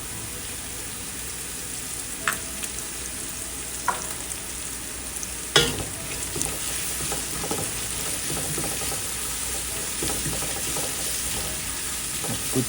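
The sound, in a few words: onions frying in a pan until brown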